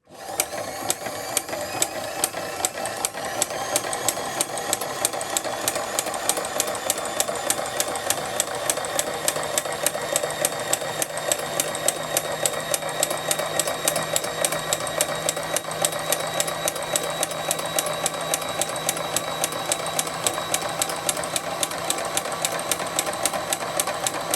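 Hague Linker machine seaming the side of a knitted piece, giving off a fast, even mechanical clatter of regular ticks over a steady whirring hum, running continuously at a moderate level.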